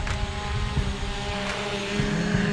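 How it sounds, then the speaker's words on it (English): A drone flies outdoors in Southern Philippines, its steady propeller whine and hum continuous and fairly loud throughout, with no speech. "flying the drone"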